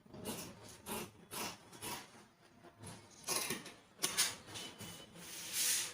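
Fabric for trousers being cut with scissors up close, a series of soft, irregular rasping snips and rubs at a quiet level, with no talk.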